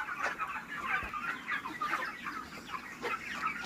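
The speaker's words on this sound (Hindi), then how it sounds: "मेरा पोल्ट्री मुर्गियों का बेच" Chickens clucking steadily in a busy flock on a poultry farm, overlapping calls repeating throughout, fairly close with a constant barnyard chatter.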